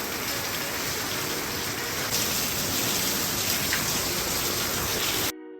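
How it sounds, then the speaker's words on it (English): Steady rain falls outdoors on a building site, a dense, even hiss of drops on surfaces, loud and continuous until it cuts off abruptly. "Now that the rain stopped"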